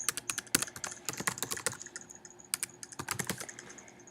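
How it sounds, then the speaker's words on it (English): Someone types a website address on a computer keyboard, a close, rapid patter of key clicks with a short pause midway before the tapping resumes. "you would just type in the website"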